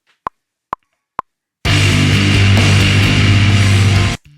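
Guitar riff through a fuzz pedal for a post-grunge jam: three quick clicks count in, then a dense, loud, saturated wall of distorted chords holds steady for a few seconds before cutting off abruptly.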